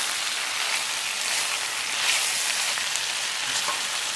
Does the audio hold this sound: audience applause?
no